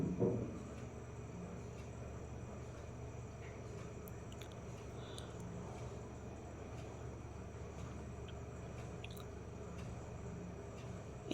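Soft, steady bubbling and faint crackling of brinjal gravy simmering in a pan, with occasional small pops and ticks, no voices.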